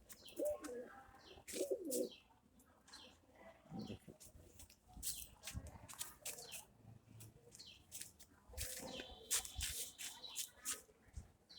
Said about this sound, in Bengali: এখানে আপাতত 4 জোড়া অর্থাৎ 8টি কবুতর আছে।